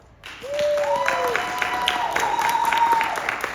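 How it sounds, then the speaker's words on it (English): Audience at a Western-themed convention tea-dueling finale applauding with a steady round of clapping, and a voice speaks briefly over it. "Round of applause."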